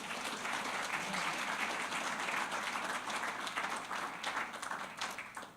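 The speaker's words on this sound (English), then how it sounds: "So I think they deserve a round of applause." An audience at a water summit debrief session gives steady, dense applause, many hands clapping evenly before it thins and tapers off toward the end.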